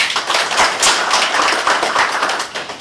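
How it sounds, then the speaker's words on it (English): Steady applause from an audience at a public address by the East African Community Secretary General, dense overlapping claps rising and falling for a few seconds with no talking over it. "give a big applause for that"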